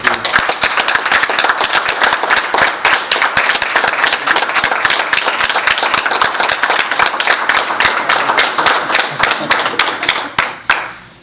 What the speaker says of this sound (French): j'aimerais qu'on se lève debout pour applaudir pour toutes ces 40 années de